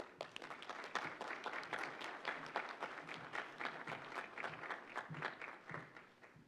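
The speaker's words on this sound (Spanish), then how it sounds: "Un aplauso, por favor." Audience applause at a human rights and migration event: steady, dense clapping from a crowd, moderately loud and sustained throughout without a break.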